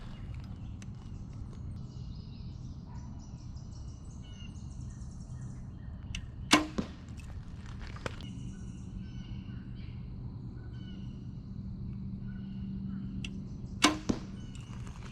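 Two sharp snapping releases from a PSE Levitate compound bow, about seven seconds apart, each with a faint click and rattle of the arrow rest touching the riser, over steady outdoor background noise.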